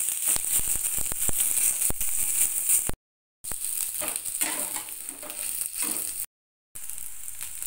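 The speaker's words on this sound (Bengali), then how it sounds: "ওই একই তেলের মধ্যেই বেগুনগুলো দিয়ে দিতে হবে।" Eggplant pieces fry in hot oil alongside potatoes for a tangra fish curry with potato and bori, giving a loud, steady sizzle that cuts out abruptly twice.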